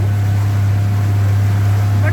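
A motorboat engine drones loud and steady on a mangrove boating trip, with a strong low hum and wind rushing over it throughout.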